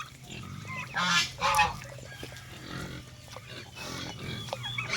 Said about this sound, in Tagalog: Yun yung native na baboy natin.